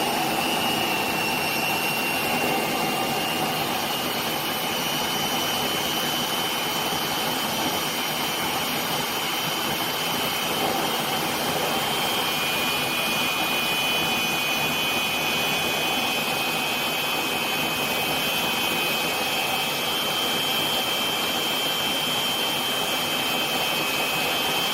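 A vintage T53 turboshaft engine runs steadily with a continuous broadband turbine roar and a thin high whine, loud and unbroken throughout with no voices.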